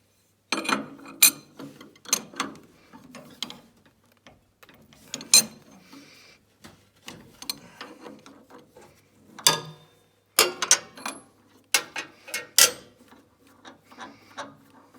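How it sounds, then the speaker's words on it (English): Metal parts click, clank and ratchet as the side cutter blocks on a Logosol PH260 planer moulder are swapped for profile cutters, sparse sharp knocks and tool clicks scattered over quiet pauses, close by. "now what we're going to do is we're going to change the side blocks to profile cutters"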